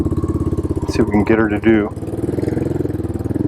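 A Royal Enfield Hunter 350 motorcycle fitted with a Diablos exhaust pipe idles with a steady low throb, while someone speaks briefly over the engine partway through.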